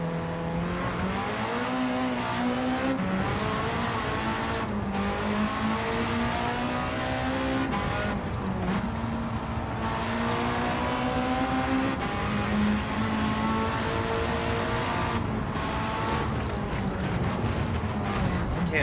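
Race cars in Gran Turismo 7 rev and roar continuously, engine pitch climbing and dropping through repeated gear shifts, loud and close, with occasional high tire squeal and no voices over it.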